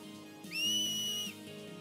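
A single loud, sustained whistle held for close to a second, rising sharply and then steady, used to cheer on blitzball players in Final Fantasy X HD Remaster, set over quiet game ambience.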